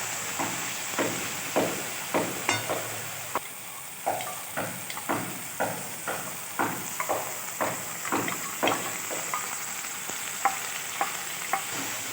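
Yogurt goes into pabda fish masala sizzling in oil, with a steady frying hiss under regular scraping stirring strokes, about one every half second, close and clear with no talking.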